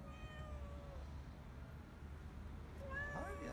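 A cat meows with a couple of short, thin, rising calls, one near the start and another near the end, faint against a murky background hum.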